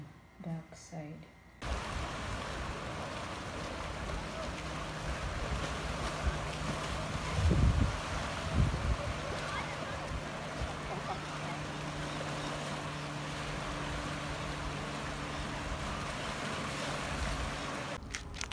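Open waterside ambience at River Inn Marina, a steady wind-buffeted wash with low water and boat hum throughout, a couple of brief thumps near the middle, and faint talk in the background.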